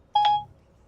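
A phone gives one quick electronic beep, a bright double-toned chirp lasting a fraction of a second, then falls silent in a quiet room.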